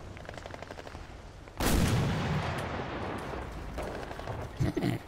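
A Panzerfaust fires and strikes a tank in Red Orchestra: Ostfront 41-45, giving a sudden loud blast that rumbles on and fades over a few seconds, with further gunfire crackling near the end.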